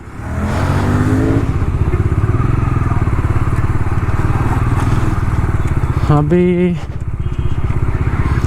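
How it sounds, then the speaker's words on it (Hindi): A motorcycle rides along a road, its engine droning loud and close throughout with a steady throb and rush of wind, and a brief rising tone near the end. "अभी दोनों बाइकों का काम ख़त्म करके अभी सीधा चल रहे हैं हम लोग।"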